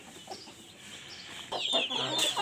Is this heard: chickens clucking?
yes